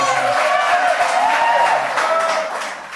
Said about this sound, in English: Y'all know why they clapping?